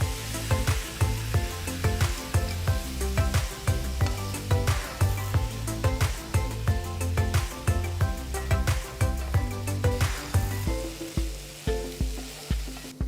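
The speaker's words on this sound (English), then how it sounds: "Cook the paneer for about 5 minutes on high flame." Marinated paneer pieces frying on high flame in a little oil in a hot pan give off a steady sizzle with regular stirring knocks, over a rhythmic background, with no talking.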